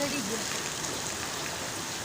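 Heavy storm rain pours down as a steady, dense wash of noise, continuous and loud throughout.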